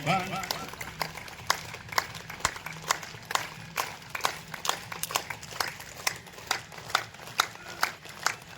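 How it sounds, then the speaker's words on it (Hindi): Students at a spiritual guidance camp clap together in rhythmic bursts, a steady patter of hand claps repeating about twice a second, with voices and a faint background drone underneath. "एक बार जोरदार तालियां बजाएं सब"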